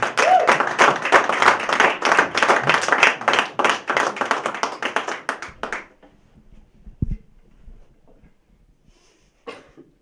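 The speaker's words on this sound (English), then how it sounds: "Please give a big round of applause for Mr. Anthony Armstrong." Applause at a small comedy show, a crowd claps loudly for about six seconds before it quickly thins out, leaving near silence with a few faint scattered sounds.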